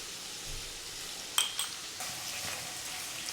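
Onions frying in a pan with salt for chutney, a steady soft sizzle throughout with a couple of brief utensil clinks near the middle.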